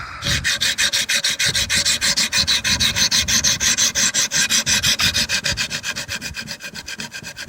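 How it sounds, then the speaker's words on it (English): A knife blade scrapes back and forth on coarse 50-grit sharpening stones, being reprofiled in a fast, regular rasping rhythm of close strokes that eases slightly toward the end. "I've been grinding on this blade trying to reprofile it using the 50 grit stones."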